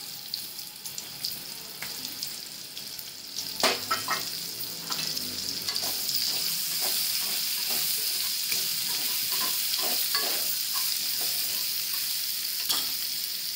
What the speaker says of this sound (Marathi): याच पॅनमध्ये थोडं तेल टाकते अजून। याच्यात कांदा टाकते,